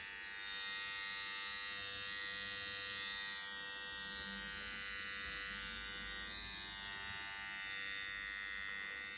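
A budget electric shaver buzzes steadily at close range while shaving, a continuous bright hum that holds level with slight shifts in tone as it moves over the skin.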